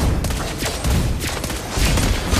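Mobile Legends battle sounds as a turret comes under attack: dense, continuous rapid crackling bursts of gunfire-like effects fill the whole stretch at high volume, with no talking.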